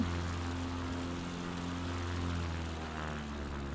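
A propeller aircraft engine in Microsoft Flight Simulator drones steadily as power is added on approach to a bush runway in Alaska, with a loud, continuous hum and even low harmonic tones lasting throughout.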